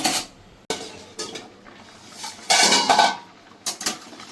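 A lid set down on a cooking pot holding radish and potato curry with hilsa fish, a few sharp metallic clanks and clatters close by, the loudest burst near the middle.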